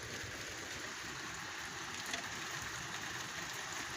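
Light rain falls steadily in Riyadh as a soft, even hiss of fine drops, constant and moderately distant with no voices.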